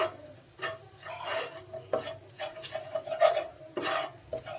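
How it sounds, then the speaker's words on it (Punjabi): Gram flour being stirred into hot ghee in a pan for besan sheera, a spoon scraping and swishing through the thick mixture in repeated strokes with a soft sizzle underneath, close and moderately quiet, no talking. "ਹੁਣ ਆਪਾਂ ਬੇਸਨ ਨੂੰ ਚੰਗੀ ਤਰ੍ਹਾਂ ਘਿਓ ਦੇ ਵਿੱਚ ਮਿਕਸ ਕਰ ਲਾਂਗੇ"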